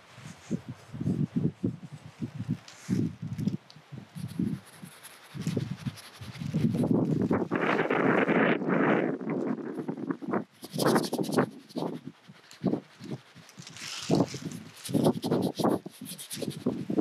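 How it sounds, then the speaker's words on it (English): Wind gusting outdoors in a wet field during plein air painting, broad rushing buffets swelling loudly around the middle and ending in sharper bursts, with soft rubbing and rustling close to the microphone. "Quite windy, so if this audio doesn't work, never mind."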